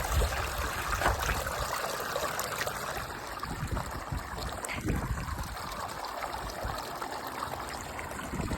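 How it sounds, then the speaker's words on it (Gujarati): Water flowing away along a small field channel on a farm, a steady soft trickling stream at close range with faint background noise throughout. "આ બાજુ પાણી વહી જાય"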